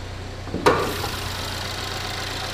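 A 2014 Chevrolet Equinox's 2.4-liter Ecotec engine idles steadily and quietly with the hood open, a low even hum throughout, briefly interrupted by a single sharp knock or thud early on.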